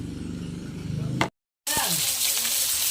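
Tilapia frying in a pan of oil, a dense steady sizzle that cuts out briefly, then returns bright and loud with spattering crackles.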